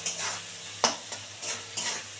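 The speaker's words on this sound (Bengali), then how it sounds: "এবার এটাকে খুব সুন্দর করে ভেজে নেব।" Potatoes with turmeric fry in a pan for a fish jhal, with soft sizzling broken by a few distinct scraping stirs at close range.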